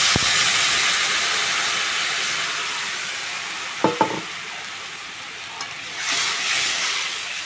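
Tamarind water hitting frying beetroot in a hot pan sets off a loud, sustained hiss and sizzle, with a couple of clanks from the utensil and a swell of steam toward the end.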